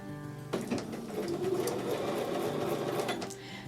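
A sewing machine stitches a quarter-inch seam on a Broken Dishes quilt block, starting abruptly into a steady rapid whirring drone that runs for about three seconds before stopping. It is close and alone, with no speech.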